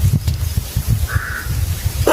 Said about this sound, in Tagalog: Ito may uwak.